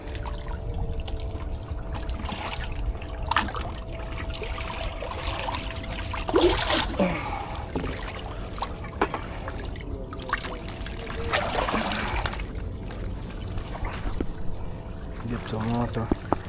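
Water is scooped and poured while fishing in a downtown setting, splashing and trickling continuously against outdoor noise, with people talking throughout.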